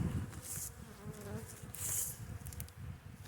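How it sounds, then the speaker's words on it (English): Honeybees buzz inside a well-populated hive during a February check, a dense close drone with lower hum layers and a few brief louder swells, with no voices. "we've got a lot of bees in this one"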